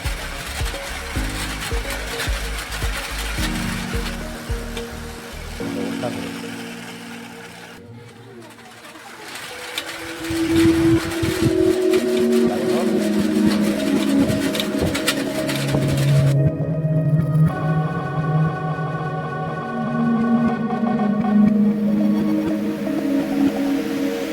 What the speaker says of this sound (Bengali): চাকা ঘোরাই, তো দেখি মোটর ঘোরাতে পারে কিনা